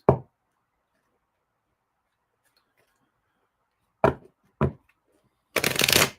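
A quick card riffle near the mic, then two short shuffles and a longer, louder riffle of cards at the end, with quiet gaps between.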